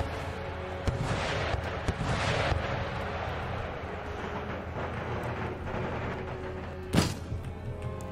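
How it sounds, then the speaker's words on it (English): Artillery in an Empire: Total War river battle between Italian States and Swedish forces: a continuous rumble with scattered heavy booms, one sharp loud blast near the end, no voices. "A lot of artillery. And my artillery is coming in."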